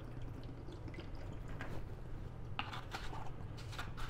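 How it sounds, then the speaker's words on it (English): Potassium oxalate developer is poured onto a palladium print, giving quiet liquid splashing and dripping that grows in short bursts toward the end. "Get my potassium oxalate here. And here goes the pour."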